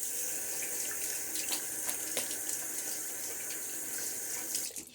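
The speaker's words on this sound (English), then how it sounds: "Just a quick splash of water to be a semi-rinse there" Running water pours steadily from a tap while someone splashes it during a wet shave, a close, continuous rush with small splashes and no talk.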